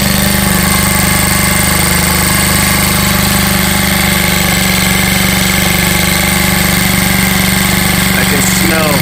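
A 2018 Tao Racer 100cc fitted with a big bore kit, A-9 cam, 64mm rockers and a new carburetor runs steadily while warming up, a loud, close, even buzzing drone that holds without change throughout.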